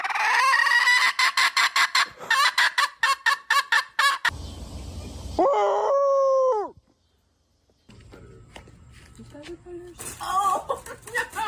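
Chickens cluck and squawk loudly and close up in rapid repeated bursts, with a drawn-out crow-like call in the middle and a stretch of quieter noise before the clucking resumes.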